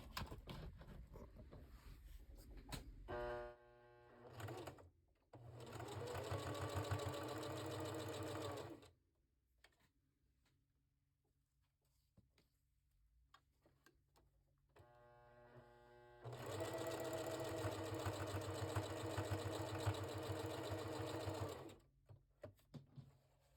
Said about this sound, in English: I line it up with my presser foot right here, and I'm just going to do a top stitch right along here